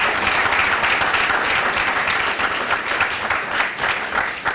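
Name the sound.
audience applause for both teams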